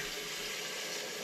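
Hot water pours in a steady, even stream to make coffee at home, a continuous close hiss with no voices.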